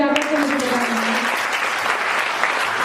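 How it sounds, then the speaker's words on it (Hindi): An audience at a Hindi comic poetry gathering breaks into a burst of hand-clapping. The applause is dense and steady, with a voice speaking briefly at the very start before the clapping takes over. "यदि अच्छा लग रहा है तो एक बार ताली बजा कर मुझे बताना।"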